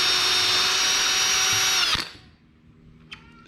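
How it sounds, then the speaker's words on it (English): A power drill whines steadily while pre-drilling screw holes in wood for a patio bench, running loud and close for about two seconds before stopping abruptly, followed by a few faint clicks. "you just pre-drill a couple screws."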